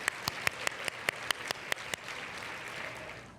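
Applause from an audience at the Women of Influence awards gala in Nanaimo, a burst of distinct claps that soon blurs into steady, moderately loud clapping across the room.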